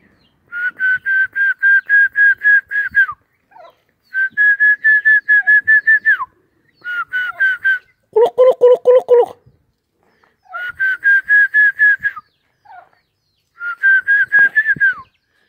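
A person whistles at a turkey in repeated trilling bursts, each a rapid run of short warbling notes, loud and close, with pauses between phrases and a lower rapid trill partway through.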